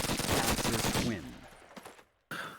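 A PPSh submachine gun in a video game fires a rapid, dense burst of close shots for about a second, then trails off into sparse echoing reports and a brief silence before another sharp sound.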